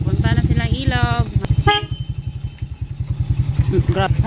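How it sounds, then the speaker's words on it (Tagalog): Motorcycle idling with a steady, rapid engine thump, nearby, while several short horn toots sound over it in the first couple of seconds and a voice speaks. "Malakas ng busina natin."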